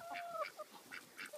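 Tall Indian runner ducks in a backyard give a quick series of nasal quacks and honks, several short calls in about a second, close by and moderately loud.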